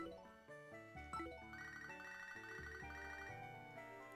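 A cheerful, looping electronic ringtone jingle from the Pokémon Black and White game signals an incoming phone call, its bright melodic tones repeating steadily and close at hand with no talk over it.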